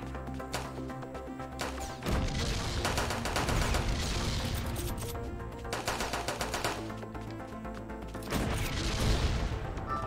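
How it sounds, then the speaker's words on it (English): Machine gun fire in a battle game, rapid loud bursts in close repeated volleys with brief pauses between, mixed with crashing impacts over game music. "At least the machine gun is a lot more powerful now."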